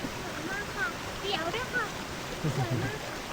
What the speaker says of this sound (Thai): ตอนนี้ก็ถึงน้ำตกแก่งสามชั้นเรียบร้อยแล้วนะครับ